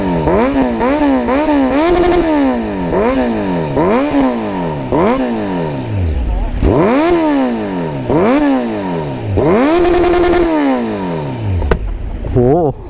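A Kawasaki Z900 motorcycle engine is revved again and again, its note climbing and falling back in about eight loud, close sweeps, some short and choppy, others held longer.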